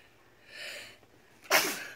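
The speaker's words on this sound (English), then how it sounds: "Bless you. You're sneezy." A single sharp sneeze bursts out near the end, loud and close, preceded by a soft breathy intake; no talking is heard.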